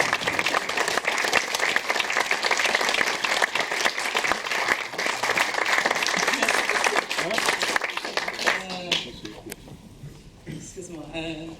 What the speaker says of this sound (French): Donc je vous demande d'applaudir comme il se doit